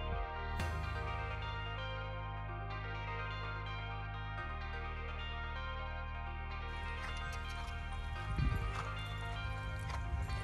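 Hooves of a three-year-old horse clip-clop steadily at close range, a young mover shown in hand, with music playing loudly throughout and brief handler voices.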